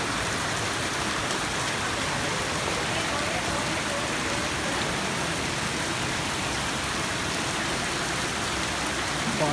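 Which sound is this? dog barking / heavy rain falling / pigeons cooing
heavy rain falling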